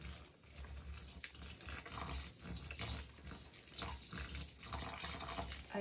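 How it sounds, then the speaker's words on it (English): Indoor tap water pours steadily into a bathtub to soak a potted plant, a continuous hissing, splashing flow heard close up and alone. "I'm gonna wet her completely and leave her to drain in the tub"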